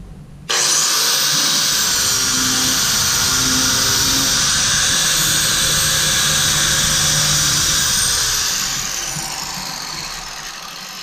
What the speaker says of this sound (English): after you've done hogging out the knobs with your grinder